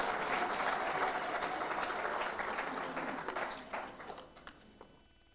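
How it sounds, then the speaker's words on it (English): Enthusiastic applause from an audience at a 2024 examination results announcement honoring students, dense clapping that gradually thins and fades out over several seconds. "Give these children a round of applause before I read their names out."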